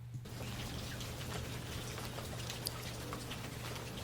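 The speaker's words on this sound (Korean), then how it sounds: "빗소리를 배경으로 들려드릴게요." Steady, soft rainfall with a constant hiss and scattered light drops, continuous throughout with no voices.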